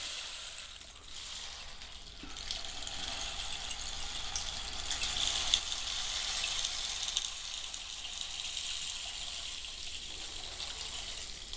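A hourglass-like shaker filled with nails and beans is turned slowly, its contents trickling through in a continuous soft hiss and patter like running water, steady and close, with no talk.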